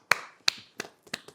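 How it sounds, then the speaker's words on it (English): Five or so sharp, dry hand claps from a single close source, spaced unevenly with short silences between, in an otherwise quiet room during a talk show. "Applause."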